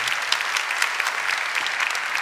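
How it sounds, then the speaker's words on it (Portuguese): A congregation applauds inside a church after a scripture reading, a dense, steady wash of clapping that holds evenly from start to finish with no voices over it. "Aplaudimos de coração."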